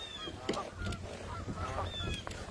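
A couple of geese honk near a lake where kayakers fish, with several nasal calls spread across the moment at moderate distance over faint outdoor background noise.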